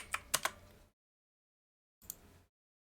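A computer keyboard gives a few quick, quiet keystrokes, then silence, then a brief second flurry of clicks close by.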